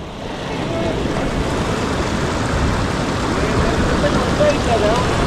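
Ocean waves surge and wash over coastal rocks where someone is fishing, a steady loud broadband roar with gusty wind noise on the microphone throughout.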